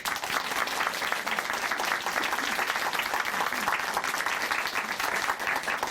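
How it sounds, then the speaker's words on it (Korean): Church audience applauding a testimony in a Korean Christian program studio, steady dense clapping throughout, fairly loud and even with no talk over it. "우리가 응원의 박수 전해드릴까요?"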